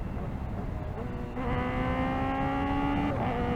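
A 2024 Kawasaki Ninja ZX-4RR motorcycle engine roars at high revs, its whine climbing as it shifts up, loud and steady against rushing wind.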